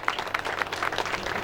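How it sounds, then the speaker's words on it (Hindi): Audience at a community gathering of a samaj mahasabha applauds to welcome guests, a dense continuous patter of many hands throughout. "एक बार इनके लिए जोरदार ताली से स्वागत अभिनंदन"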